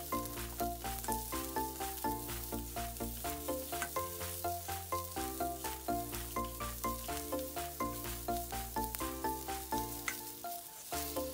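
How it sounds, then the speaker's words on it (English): Red shallots sweat and fry in a hot pan for crispy chilli beef, a soft, continuous sizzle running under rhythmic background music. "Followed by the red shallots. Sweat them until it's fragrant and golden brown."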